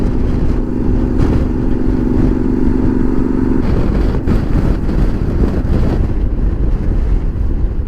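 Motorcycle riding along an Argentine road, engine drone buried under heavy, constant wind roar on the microphone throughout.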